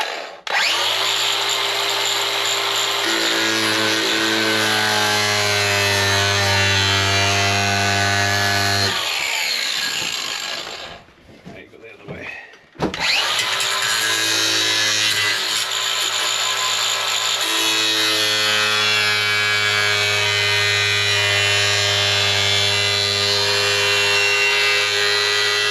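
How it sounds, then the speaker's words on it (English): A cutoff wheel grinds through a pipe clamped in a vise, a loud, steady high-pitched whine with strong tonal harmonics that runs for several seconds, stops briefly, then resumes for a second long, continuous cut; no talking. "I'm going to put this on my vise and use a cutoff wheel to cut it"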